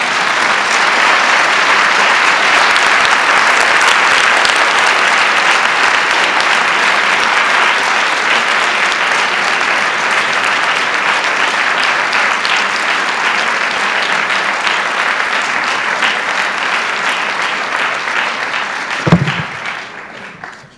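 Sustained audience applause for a reader at a creative writing celebration, steady and full for about nineteen seconds before tapering into a brief thump and quiet.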